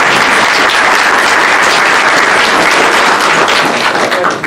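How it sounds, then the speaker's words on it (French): Applause from an audience gathered for a meeting of paranormal investigation teams, a loud, dense, sustained wash of clapping that runs steadily throughout and tapers slightly at the end. "allez on va l'applaudir"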